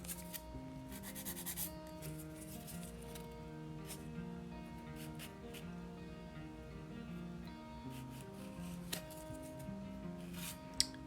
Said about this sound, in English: I'm just kind of filing that part of it off